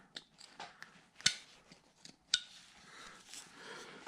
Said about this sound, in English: just make a little scoop cut like that